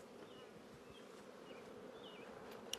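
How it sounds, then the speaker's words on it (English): Honeybees swarm in the air around an open hive, giving a steady, dense buzzing drone with a few individual bees whining past up close. "Look at all the bees in the air."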